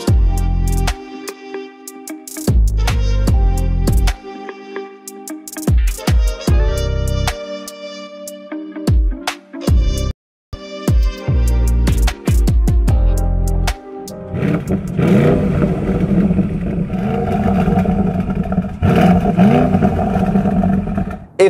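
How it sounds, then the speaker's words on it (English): A loud, deep Akrapovic exhaust on an Audi RSQ8 revs in sharp repeated blips with crackling pops between them, then settles into a sustained rumbling drone close by. "in the lower rev ranges we have the iconic Akrapovic rumble"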